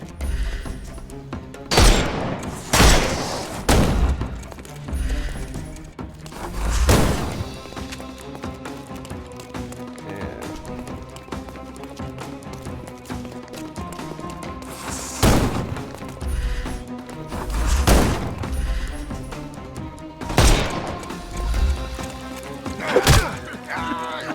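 Gunfire bursts in a Sherlock Holmes: Chapter One combat scene, several loud broadband cracks and volleys at irregular intervals over a continuous game music and ambience bed.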